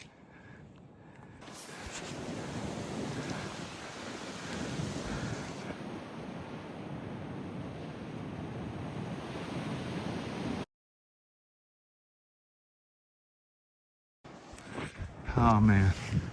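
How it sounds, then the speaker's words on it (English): Strong wind buffeting a microphone on a mountain top on the Appalachian Trail, a steady roaring rush for about ten seconds, then silence before gusts and a voice return. "Now it's windy"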